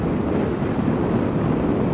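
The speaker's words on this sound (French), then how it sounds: "On a un bon vent de face, là." Strong headwind buffeting the rider on a 2020 Zero SRS electric motorcycle, a steady broadband roar of wind against the microphone, loud and continuous with no pauses.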